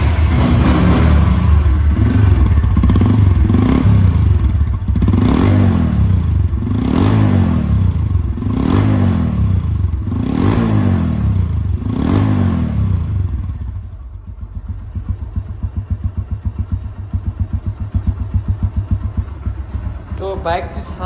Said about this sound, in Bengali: বাইকটির সাউন্ড কোয়ালিটি যদি শোনেন আপনারা, তো আপনারা বুঝতে পারবেন যে বাইকটির ইঞ্জিন কোয়ালিটি কেমন আছে